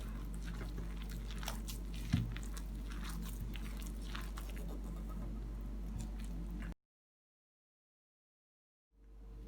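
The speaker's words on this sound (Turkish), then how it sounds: "Burada çıkma teli çıkarıp şimdi elimizle yoğuracağız. Unumuzu ilave edip yoğurmaya başlayalım." Dough being kneaded by hand after flour is added, for crispy cheese pişi: steady soft squishing and slapping kneading sounds, close and continuous, then an abrupt silence before the handling resumes.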